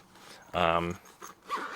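A Viperade clamshell pouch is zipped shut while packed with bulky gear, a brief zipper rasp close by, with a voice speaking around it.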